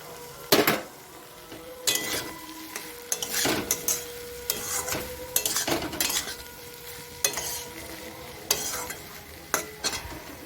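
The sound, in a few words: prawns added to frying pan, sizzling and stirring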